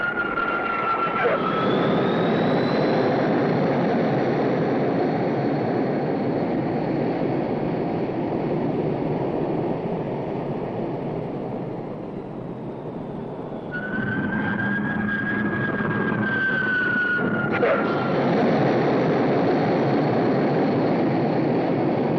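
Jet planes launch from the deck of the aircraft carrier Enterprise, a loud continuous jet roar with rising whining tones that fades briefly before another engine surges in close.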